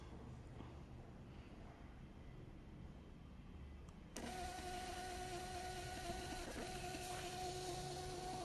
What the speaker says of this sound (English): now we try to print by the Bluetooth